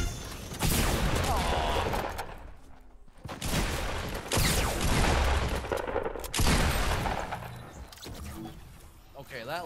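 Fortnite gunfire during a duo match comes in dense, loud volleys of rapid shots that repeat in bursts, with a player talking over the shooting.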